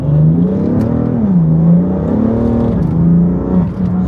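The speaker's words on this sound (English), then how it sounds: "the car's having wheel spin in MDM mode" A 700 hp Enzian Blue BMW F80 M3 revs hard with its tires spinning, the engine note rising and falling in steady sustained surges, loud and close with no talk.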